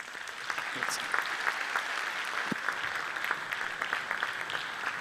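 An audience at a Sa Die de sa Sardigna concert gives sustained applause, a steady wash of many hands clapping with scattered louder claps, heard at moderate distance.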